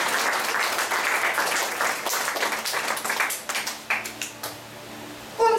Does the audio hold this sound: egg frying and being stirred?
no